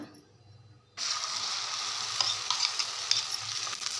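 Beaten egg hits hot oil in a pan and a sudden loud sizzle starts, then holds as a close, steady crackling fry with small pops. No one speaks.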